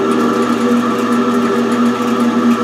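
A bandsaw runs steadily with a tonal hum and whine while its blade tension is being adjusted, a continuous close machine drone without speech.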